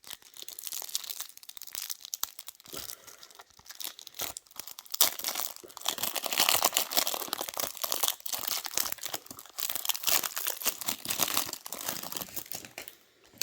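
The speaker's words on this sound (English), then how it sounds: "Well, at least take off the plastic." Plastic wrapping being crinkled and torn off the packaging of a Hobby Japan Initial D diecast Toyota, with a steady run of close, bright crackling and ripping for over ten seconds and no talk.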